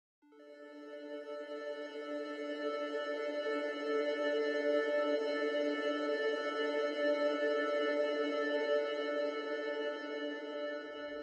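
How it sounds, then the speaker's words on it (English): A triangle-wave synth pad in Omnisphere run through a line shimmer reverb swells in and holds as a steady, bright, sustained chord with a shimmering upper layer, alone and fairly quiet throughout. "And it creates this crazy kind of shimmer pad from that."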